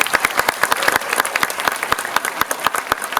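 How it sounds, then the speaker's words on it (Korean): A cinema audience claps for guests at a film screening talk event in a Coex Megabox theater. The applause is dense and sustained, with sharp individual claps standing out from the crowd, and no talking. "여러분 큰 박수 좀 부탁드리겠습니다"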